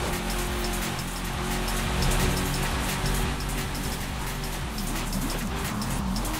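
Steady, dense rain pattering in a Forza Horizon 5 race, a loud continuous hiss of drops with a low engine hum underneath, unchanging throughout and without voices.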